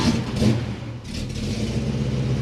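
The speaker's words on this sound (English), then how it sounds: "Revs up real nice if you're into it softly, but if you stab it, it gets way lean." A 1970 Chevelle V8 fitted with a Holley double-pumper carburetor, revving with a rough, uneven rumble that sags and stumbles as it runs lean, heard up close without talk.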